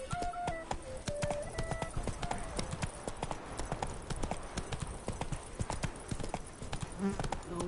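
Horse hooves clip-clop at a steady gallop in The Witcher 3, the quick rhythmic beats close and continuous throughout with a brief whinny-like tone and some game sounds layered in.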